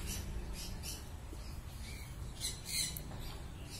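Shrill, scratchy yellow-sided conure calls repeat in short bursts over a low background hum, moderately close but not loud.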